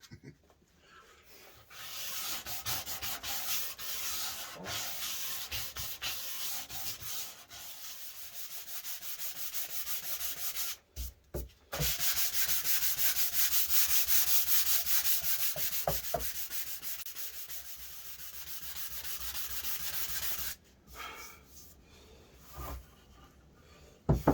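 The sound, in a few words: hand sanding wood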